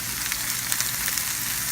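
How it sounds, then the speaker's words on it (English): Onions and celery sautéing in a pan for chili, a dense, steady sizzle with faint crackles, close and fairly loud with no talking. "we've got the vegetables, the onions and the celery sauteing up here"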